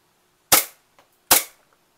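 Two sharp, loud snapping shots from a Glock 18 airsoft pistol, spaced under a second apart, each with a quick decay and near silence between.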